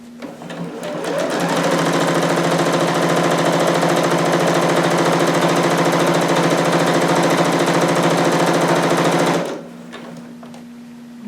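A sewing machine runs in one fast, steady burst of stitching on a harem jumpsuit seam for about eight seconds, loud and close, then stops, leaving a low hum.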